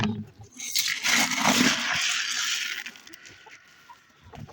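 Excited hens clucking in a chicken coop when its door is first opened in the morning, a busy overlapping chorus of close, lively clucks that swells and then thins out.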